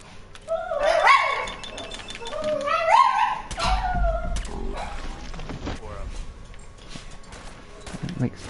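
Dogs in Fallout 4 yelp, whimper and bark in a busy burst over a few seconds, then trail off beneath game noise and scattered footsteps at the National Guard Training Yard.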